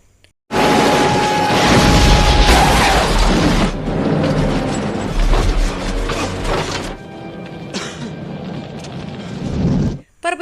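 A snowmobile blows up in an action film scene, a sudden loud burst followed by several seconds of heavy rumbling roar and debris noise that ends in an abrupt cut.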